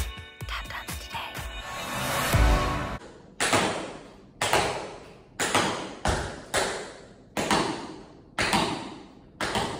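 Tap shoes strike a hard floor in a run of flaps, with a quick cluster of sharp taps at first, then a regular series of crisp, ringing hits spaced about a second apart, loud and close.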